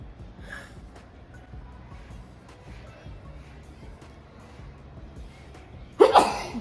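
A single sharp sneeze bursts out near the end, close and loud, after a stretch of quiet background rumble.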